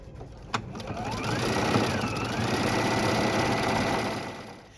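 A sewing machine runs steadily while stitching a decorative stitch around the edge of felt, a continuous close mechanical whir with a brief click near the start.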